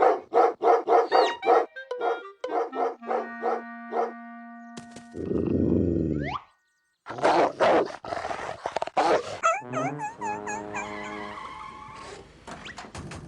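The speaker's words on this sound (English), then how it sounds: "The vicious dog I was telling you about. Did you hear him? Just listen how vicious he is." A cartoon dog barks rapidly and growls, loud and close. A long rushing noise like a skid cuts in partway through, followed by more choppy barks and warbling growls.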